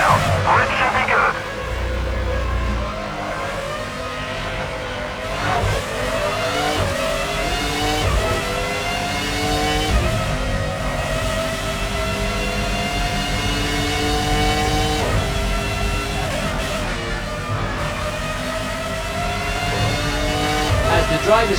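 Formula 1 race car engines in the PlayStation 2 game F1 05, a loud sustained high-pitched whine rising and falling through gear changes as several cars pass, with a commentator talking over the racing noise.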